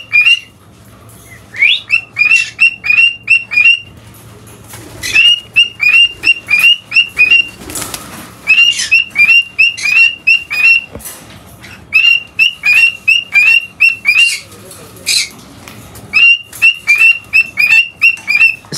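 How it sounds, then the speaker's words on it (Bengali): Pet birds kept at home chirp and squawk in rapid repeated bursts, shrill whistling calls coming in clusters separated by short pauses, loud and close throughout with no talking. "এই চিল্লা চিল্লির জন্য কিন্তু মূলত আমি পাখিগুলোকে রাখছি"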